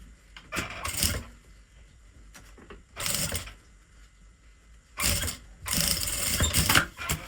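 A sewing machine stitches a fabric ruffle onto a notebook cover in short bursts, fast mechanical whirring runs separated by quiet pauses, the last bursts longer and louder.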